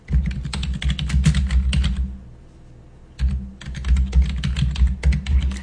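Typing on a computer keyboard while editing a program file: a close, busy run of key clicks, a pause of about a second, then another steady burst of keystrokes.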